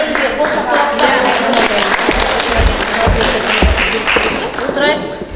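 At a seminar in Kyzylorda, an audience keeps up steady applause that stays dense and continuous, with occasional low thumps mixed in.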